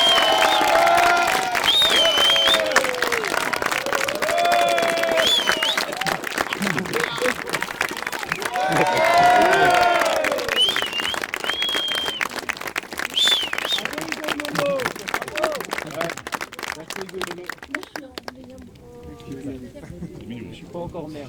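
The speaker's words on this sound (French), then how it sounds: "Levons-nous et applaudissons à l'amour et à l'avenir radieux qui les attend." Wedding guests applaud and cheer together for a long stretch, with steady clapping mixed with raised voices and whoops, then it dies away near the end.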